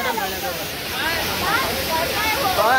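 Water rushes continuously at Lalthane waterfall as a dense, even roar, with faint voices carrying over the steady wash.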